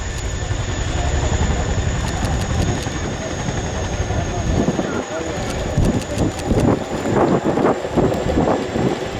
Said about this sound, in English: he will bring it to a stop on 2 wheels before reversing back up the runway